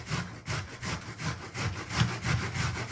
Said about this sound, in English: Use the large side of the grater and grate down.